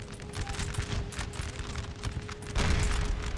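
Cannons firing canister shot in the Napoleon Total War battle game, a dense rumble of booms and crackling volleys rolling throughout, growing heavier near the end, over a steady low battlefield din.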